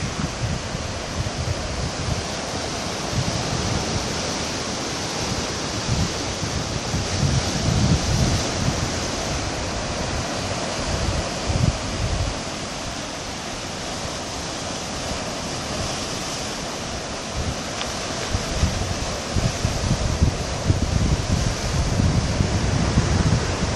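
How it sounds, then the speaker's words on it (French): Sea waves crash against old, eroded concrete tetrapods on the Port Réunion coastline, a steady loud roar of surf with wind buffeting the microphone and repeated heavier surges throughout, no voices. "Et regardez, tapé par la vague."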